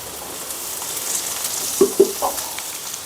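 Steady sizzling of beetroot and onion frying in a pan, with a few soft clinks and bumps partway through.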